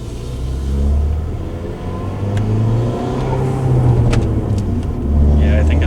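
A Ford Fiesta ST being prepped for a hybrid turbo revs steadily through its exhaust, a loud, close mid-pitched engine drone that swells and holds, with people talking over it.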